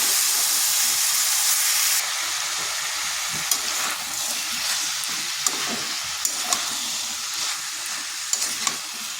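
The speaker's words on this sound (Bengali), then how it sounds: "ভালোভাবে মশলার সাথে মিশিয়ে নিচ্ছি" Pumpkin pieces being stirred and fried with spices in oil in a pan, a steady loud sizzle with scraping stir sounds and occasional spatula clicks, no voices.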